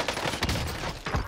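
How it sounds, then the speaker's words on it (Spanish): Gunfire in the battle-royale game Call of Duty Warzone crackles in quick bursts, a sharp volley of shots near the start and another near the end, loud over a busy game background. "Están disparando."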